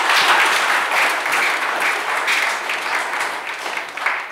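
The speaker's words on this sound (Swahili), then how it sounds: "naomba tumpigie makofi padre ambaye ametuongoza katika misa hii" Congregation at a Sunday Lenten Mass applauding the priest, a full, sustained roar of many people clapping at once, loud and even for several seconds.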